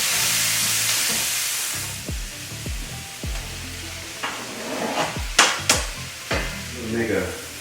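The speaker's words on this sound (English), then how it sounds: "we're gonna add the peas into the vegetable mix" Peas tipped into a sizzling vegetable mix for fried rice. Loud, continuous frying crackle with repeated spatula clacks and scrapes as it is stirred, getting busier toward the end.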